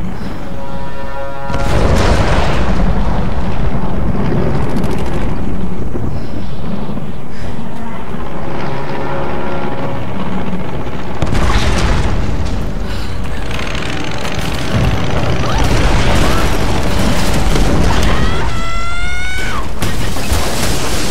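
Loud, rumbling booms and crashing blasts of explosions in the 2013 Tomb Raider video game, sustained and dense, with excited talking mixed in.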